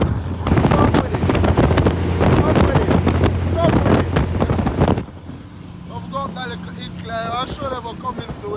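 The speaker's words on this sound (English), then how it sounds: "I'm showing you what Cummins do with weight." A Cummins diesel in a reefer LTL truck roars loudly while pulling heavy weight, then drops off sharply to a lower rumble. Someone talks over the engine.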